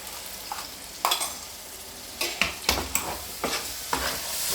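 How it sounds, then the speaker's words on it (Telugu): Blended tomato paste fries in a pan as a spoon scrapes and stirs it, a soft sizzle broken by several sharp, close stirring knocks and scrapes at uneven intervals, with no talking. "కొంచెం పచ్చి వాసన పోయేటట్టు ఫ్రై కావాలండి"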